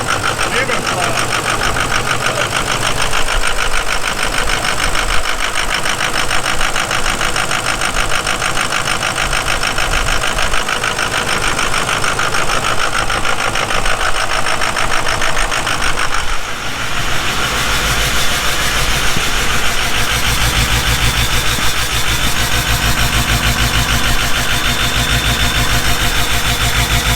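A Ford F250 with a 6.0 Powerstroke diesel, just rewired, runs continuously nearby with a loud, steady clattering idle that shifts slightly in tone partway through, while voices talk faintly under it.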